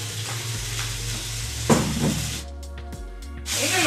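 Chicken and rosemary skewers frying in oil in a pan, a steady close sizzle with brief stirring and clatter midway, then a softer crackle with short gaps before the frying swells again.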